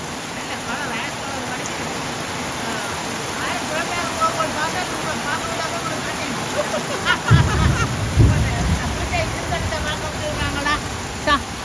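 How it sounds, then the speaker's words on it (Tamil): Heavy rain pours down at Palaly, a dense, steady broadband hiss with occasional heavier thuds, while voices talk faintly beneath the downpour. "மழை என்ன பயங்கர மழை. என்ன மழை? நல்ல மழை."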